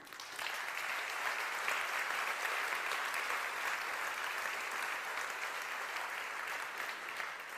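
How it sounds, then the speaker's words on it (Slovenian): Audience applause at a business awards ceremony in a hall, a steady, even wash of clapping from many hands lasting several seconds without voices. "In, draga Anja, lahko ji zaploskamo."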